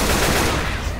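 Dense, continuous automatic gunfire from the zombie shooter game Left 4 Dead 2, loud and unbroken across the whole moment with no pauses between bursts.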